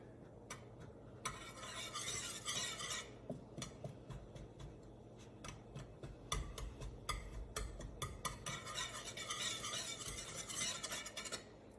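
Chocolate cake mixture stirred in a pot with a whisk, heating toward a boil: continuous scraping and swishing strokes in bursts, close and fairly quiet, with no talk.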